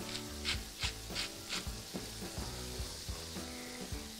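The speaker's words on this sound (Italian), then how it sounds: "Faccio soffriggere 3 spicchi d'aglio e del rosmarino tritato. Aggiungo la zucca," Pumpkin cubes fry with garlic and rosemary in a pan, giving a steady loud sizzle with scraping and stirring clatter, and several sharp crackles near the start.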